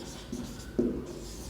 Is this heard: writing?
yes